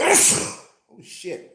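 A single loud, close sneeze bursts out, followed after a brief pause by a startled spoken exclamation.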